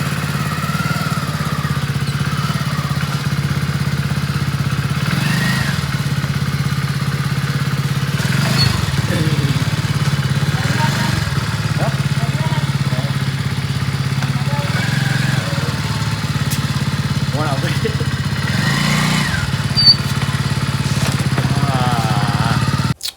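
A motorcycle engine runs steadily nearby with an even, throaty drone and occasional light clattering, heard alone without talk.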